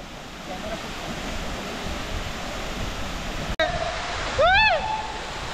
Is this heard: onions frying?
no